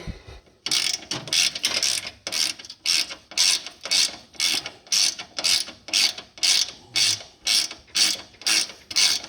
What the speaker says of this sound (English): Take yourself a 3/8 socket and take this bolt loose here.